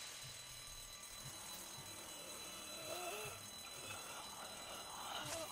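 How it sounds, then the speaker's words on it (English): A burglar alarm in The Walking Dead video game rings continuously and faintly in the background, a thin, persistent electronic tone under low game ambience. "Stupid burglar alarm."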